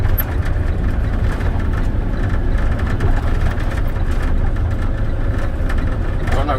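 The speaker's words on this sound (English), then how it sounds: "I'm gonna start downshifting. I go to the fifth" A truck's heavy diesel engine rumbles steadily and loudly while downshifting into fifth gear during a CDL driving test in Sacramento, a continuous low drone with no distinct breaks.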